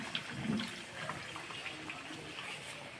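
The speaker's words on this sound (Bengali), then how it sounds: "এখন আমি এখানে পানি দিয়ে নেব।" Water is poured into a pot of cooking duck meat, making a soft, steady splashing rush that stays quiet and even throughout.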